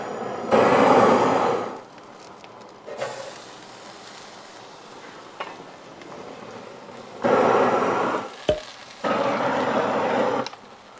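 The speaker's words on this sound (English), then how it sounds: "So let's fire it up and sear these off." Tomahawk ribeye steaks searing on a grill, loud bursts of hissing sizzle that swell and fade in several waves, with quieter pauses and a sharp click between them.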